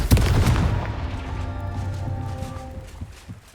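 Confringo, a fiery explosive spell in the video game Hogwarts Legacy, bursts with a sharp boom at the start, then rumbles and rings on with a low sustained tail that slowly fades.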